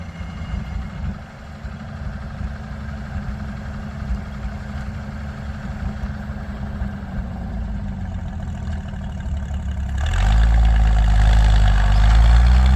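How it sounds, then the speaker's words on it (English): A tractor engine idles low and rough with a steady heavy rumble, then near the end its governor opens up and the engine note rises abruptly into a louder, fuller roar, close by with no voices. "But you hear that governor, the way that it opens up there"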